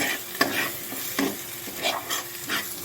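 Spice masala with added garam masala roasting in a pan for chole, a close hiss of frying with rhythmic scraping strokes of the spoon every half second or so, no voices present.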